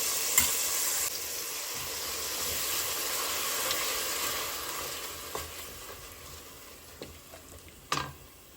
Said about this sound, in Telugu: ఇప్పుడు దీంట్లో నేను కొంచెం పెరుగు యాడ్ చేస్తున్నాను